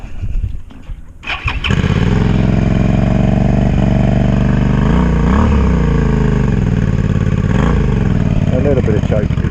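A Suzuki SV650 motorcycle engine, on choke after sitting unused for a while, cranks and catches, then settles into a loud, close, lumpy idle with a few blips of revving.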